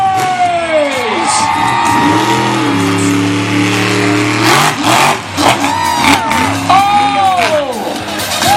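A monster truck engine revs loudly at the Royal Melbourne Show, with swooping pitch rises and falls, while a cheering crowd and an announcer's voice carry over it throughout.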